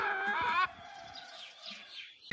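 A talking myna bird gives a loud, harmonic, voice-like call for about half a second, then trails off into softer, scattered chirps and rustling.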